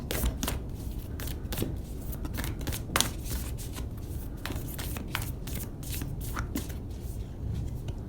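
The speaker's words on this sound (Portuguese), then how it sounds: "Vamos baralhar um pouquinho." Tarot cards shuffled by hand up close, a continuous run of crisp riffling slaps and flicks with no talking over it.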